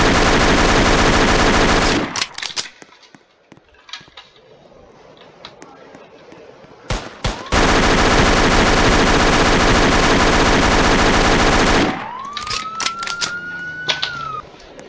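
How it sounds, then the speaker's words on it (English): Rapid bursts of automatic gunfire in a Roblox shooting game, loud and dense, with two long sustained volleys separated by quieter scattered shots, plus a brief rising tonal sweep near the end. "You wanna shoot at me? I'll shoot back."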